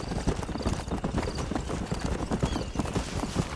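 Horse hooves clip-clop at a steady gallop in the Red Dead Redemption game world, a dense, continuous rhythmic pounding close up with no talk over it.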